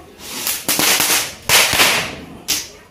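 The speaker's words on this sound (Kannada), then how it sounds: "ಅಲ್ಲಿ ನೋಡಲ್ಲ ಪಟಾಕಿ ನೋಡಲ್ಲ ಈಗ." Firecrackers burst during a Diwali celebration in Goa. Several sharp, loud cracks and bangs ring out in quick succession, each one trailing off in a short echo.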